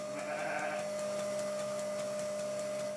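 Sheep bleat faintly in Sardinian livestock country, a short call near the start over a steady background hum, with no talk.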